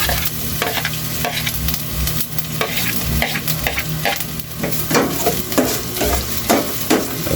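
Garlic, onion and ginger sautéing in a pan for beef-skin adobo with tausi, a loud steady sizzle broken by repeated scraping stirs of a spoon, close up and with no talk.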